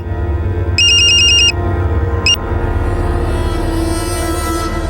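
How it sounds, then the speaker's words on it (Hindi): A loud electronic phone ringtone plays in a short repeating burst, then one brief chirp, over a steady low background hum. "ए सुशांत, खड़ा बात कर, उठा फोन"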